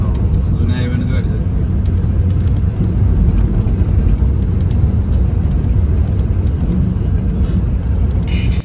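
A car drives along an old highway, a steady loud road rumble and engine drone running continuously from start to finish, with voices talking briefly over it near the beginning.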